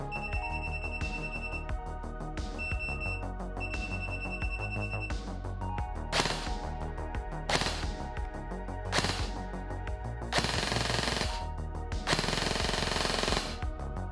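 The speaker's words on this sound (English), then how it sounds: "The next mode is 5 shot burst on semi and full auto." Well WE01A airsoft gun, a compact PCC, firing in 5-shot burst mode, with rapid mechanical bursts and electronic beeps in a few sharp volleys that grow into longer, louder rattling strings of shots.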